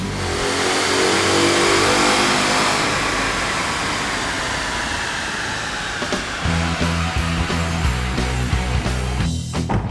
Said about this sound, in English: All right, Mike, that was the very first stock run for this car, bone stock actually